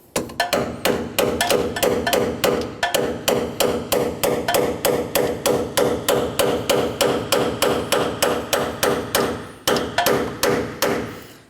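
A hammer beats on the steering shaft of a 1988–2000 Chevy C/K1500, striking about thirty sharp, loud, close metallic blows at an even rhythm with only a brief pause partway through.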